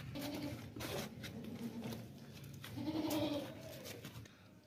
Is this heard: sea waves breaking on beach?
no